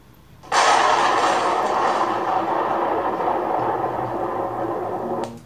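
Thunder rumbles as a loud, sustained roar that begins abruptly and rolls on steadily for about five seconds before cutting off, with no voices.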